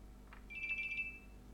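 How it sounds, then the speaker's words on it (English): Mobile phone notification pinging as a brief bright electronic chime, a short cluster of tones lasting under a second, faint and fairly close over a quiet room hum. "Oh, my phone is pinging around."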